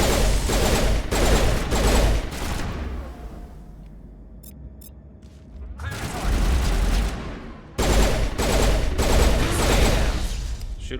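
Heavy sci-fi gunfire in Mass Effect, with dense loud bursts of rapid shots that drop away to a quieter lull with faint electronic tones before the barrage resumes, mixed with music.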